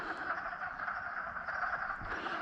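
A dense chorus of frogs, a couple hundred of them, croaks steadily from a woodland pond, with overlapping calls forming a continuous buzzing wash and no one talking.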